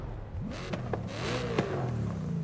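An Audi car engine in Forza Horizon 5 revs and accelerates, its pitch rising and falling across a few gear changes, moderately loud with no one talking.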